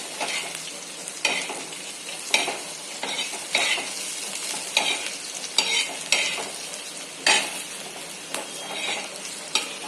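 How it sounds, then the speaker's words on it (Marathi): Slivered pistachios and charoli seeds roast in ghee in a pan, giving a steady soft sizzle with repeated scraping stir strokes every second or so, close and continuous, with no talking. "व्यवस्थित पूर्णपणे भाजून घेऊया"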